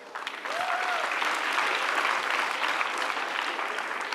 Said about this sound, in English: Let's give them a better clap for that.